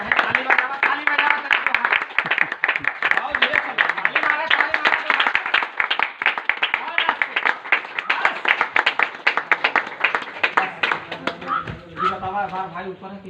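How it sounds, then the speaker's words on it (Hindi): An audience claps hands at a Hindi-speaking street magic show, a dense, loud burst of applause that runs for most of the stretch before thinning out near the end. "ताली बजा ताली बजा ताली बजा ताली बजा"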